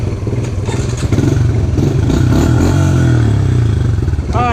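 Pit bike motorcycle engine running loud and steady during an outdoor game of tag with a four-wheeler, a rough mid-range drone with clattering that holds throughout and briefly rises near the end.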